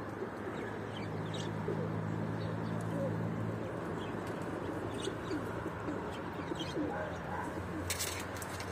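Pigeons coo softly in a loft in Turkey, repeated low cooing calls over a steady background hum, with faint chirps and a brief sharper sound near the end.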